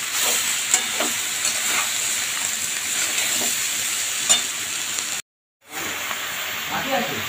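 Bottle gourd frying in hot oil with turmeric, stirred steadily, giving a continuous close sizzle and hiss with soft scraping strokes, broken by a brief moment of silence.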